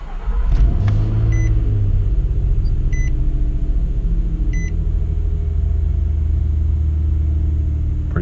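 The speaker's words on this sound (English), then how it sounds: "Xterra cold start" A Nissan Xterra engine cold-starting close by: a brief cranking burst, then a loud, steady low idle rumble that holds on, with a few faint electronic beeps early on and no talking.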